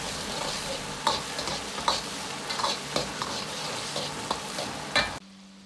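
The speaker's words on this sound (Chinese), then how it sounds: "把酱汁酱料一定要炒香，炒至酱汁亮油" A spatula stir-fries the sauce for dry-braised carp in a wok, made with mushrooms, cooking wine, soy sauce, vinegar and seafood sauce. Repeated close scrapes and clacks sound over a constant sizzle, which cuts off abruptly just before the end.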